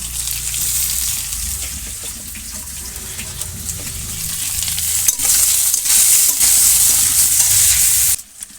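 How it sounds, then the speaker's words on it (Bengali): Chopped onions added to already-fried potatoes in a pan in a village kitchen, a loud, steady sizzle with stirring scrapes throughout before it cuts off abruptly near the end. "এখন এই কেটে রাখা পেঁয়াজগুলো দিয়ে দেবো"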